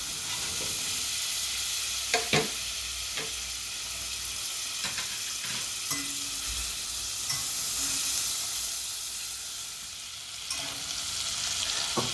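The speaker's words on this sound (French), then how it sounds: "Pour ça, j'ai mis une casserole à chauffer. Et je vais faire fondre mon beurre." Steady soft sizzling of butter melting in a hot saucepan, with occasional light scrapes and clicks over the continuous hiss.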